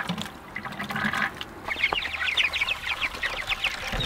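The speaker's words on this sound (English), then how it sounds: "Fill the bucket up in here, and hopefully it'll trickle down in there." Water poured from a bucket into a chicken tractor waterer, a splashy liquid rush that gives way to a bubbling, gurgling trickle, close and fairly loud.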